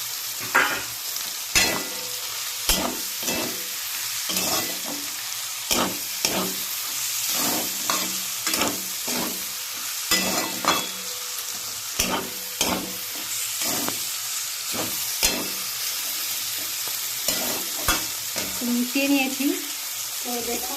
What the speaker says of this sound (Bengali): এই বেগুনটা আমি ভেজে রেখেছিলাম এর মধ্যে মিশিয়ে দেবো